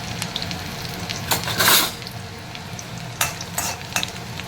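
Finely chopped garlic hits hot oil in a pan with a continuous crackling sizzle, punctuated by several louder bursts as a spoon stirs and scrapes through it.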